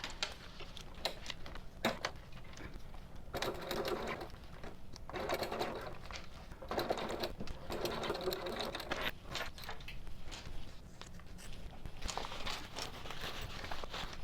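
A sewing machine runs a 5/8 inch seam while assembling a Mini Swell bag with a boxed bottom, its steady mechanical whirr rising and pausing in several close, continuous bursts with no talk.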